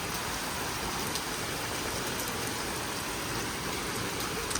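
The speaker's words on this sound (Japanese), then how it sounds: "これ結構ここのガラスまで雨が吹き込んできてるって結構横風も強いってことですよね" Heavy rain in a thunderstorm, blown sideways by a strong crosswind against a second-floor apartment balcony and glass, forms a steady, dense hiss of rainfall that stays constant throughout with no voices.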